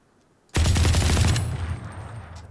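Automatic gunfire in the video game Valorant, a single loud rapid burst of shots lasting about a second, then a ringing decay, with no talking over it.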